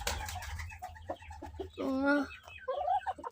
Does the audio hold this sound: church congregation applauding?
no